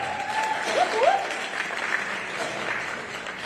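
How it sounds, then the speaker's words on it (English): Audience applause fills the room at a civil rights roundtable event, a steady wash of clapping from a sizeable crowd lasting throughout, with a few faint voices and whistles mixed in. "Round of applause."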